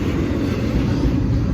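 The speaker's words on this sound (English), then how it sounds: "We'll get a coal train in just a minute. There's the coal train right there." A model coal train runs at a church train show in Madison, Tennessee, giving a steady, close, continuous low rumble and rolling hum with no talk over it.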